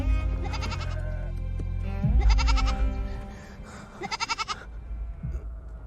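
Several goats bleat in loud, wavering cries, three distinct calls spaced a couple of seconds apart, the last one breaking into a rapid stuttering bleat, near and clear over faint background noise.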